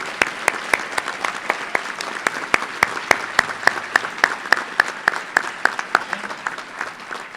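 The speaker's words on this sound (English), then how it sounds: "So please join me in a round of applause for them." Audience at an Urban League speaking event applauds, a dense steady clapping from a crowd with sharp individual claps standing out.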